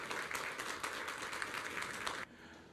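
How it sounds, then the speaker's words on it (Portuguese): A church congregation applauds in a dense, even burst of clapping that holds steady for about two seconds and then cuts off abruptly into quiet. "Vamos aplaudir a palavra de Deus"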